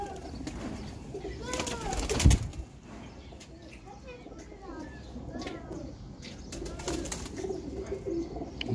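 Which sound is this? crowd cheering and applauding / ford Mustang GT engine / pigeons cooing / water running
pigeons cooing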